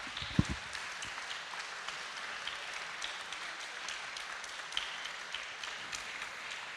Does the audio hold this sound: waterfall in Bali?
no